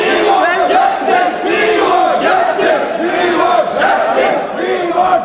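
Members of parliament crowd the centre of the house in uproar, a loud, continuous din of many shouting voices and chants layered together without a break.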